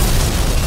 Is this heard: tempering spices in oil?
no